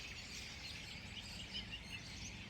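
Many robins singing from the trees, a faint steady chorus of overlapping chirps and warbles at a distance, with no one talking.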